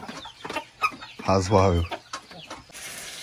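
Farm chickens being caught to sell at a market cluck and squawk loudly at close range in a brief burst, mixed with people talking nearby.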